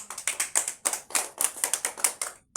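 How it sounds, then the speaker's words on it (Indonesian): A primary school class claps hands for a classmate, a quick, fairly close run of crisp individual claps in a brisk uneven rhythm that stops abruptly. "Tepuk tangan untuk Sandro dulu"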